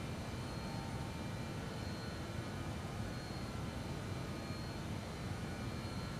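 Steady broadband roar of BAe 146 jet engines during the climb after departure, a continuous low-heavy rumble with a faint high whine, holding constant level throughout with no talk.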